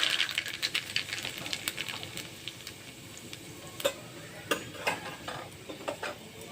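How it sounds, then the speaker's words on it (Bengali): Nigella seeds (black cumin) tempering in hot oil for a bottle gourd leaf curry, a close, steady sizzle broken by quick crackling pops and the occasional scrape of a spatula against the pan. "ফোড়নে দেবো কালো জিরে"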